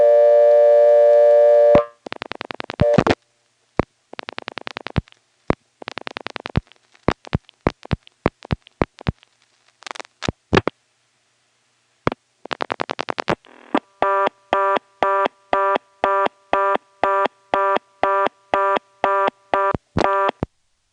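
Telephone line sounds from a step-by-step switch in 1977 Siler City, North Carolina, sliding to a blocked 11th terminal: a steady tone, then a series of clicks and brief tone bursts, ending in a regular repeating busy-style tone.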